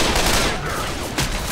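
Gunfire in the video game Left 4 Dead 2, a loud, dense barrage of rapid shots filling the moment close up with no pause.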